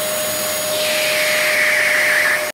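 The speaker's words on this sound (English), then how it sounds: "Robot, vacuum the floor." A vacuum cleaner runs loud and close on a floor, a steady motor whine with a constant tone and rising airflow rush, stopping abruptly at the end.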